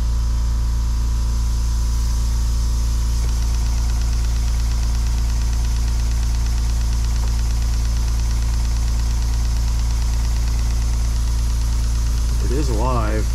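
A Stuart 10V model steam engine runs on compressed air with leaking steam chest gaskets, a loud steady mechanical chugging hum mixed with a compressor drone close by, ending in a brief rising whine.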